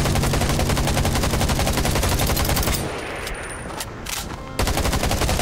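Gunfire in the Undawn video game, with loud, rapid automatic fire up close that runs almost without a break, dips briefly into quieter scattered shots, then picks up again at full volume.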